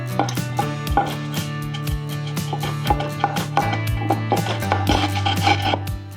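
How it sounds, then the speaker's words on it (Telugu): Tamarind and crystal salt are pounded in a mortar: rapid, steady, close thuds with a ringing tone that carries between strikes, continuing without pause. No voices. "వావ్, దంచుతుంటే సౌండ్ చూసారా ఎట్లా వస్తుందో."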